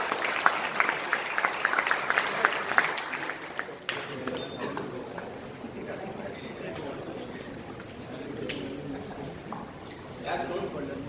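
A college classroom audience claps briefly for a student during an interactive session, a burst of scattered hand claps at the start that soon gives way to room noise and talking.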